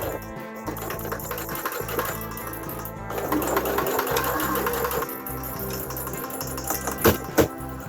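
A domestic sewing machine runs in steady bursts while stitching a homemade cloth face mask, its rapid mechanical whirr close and continuous, pausing briefly around three seconds, with a couple of sharper clicks near the end.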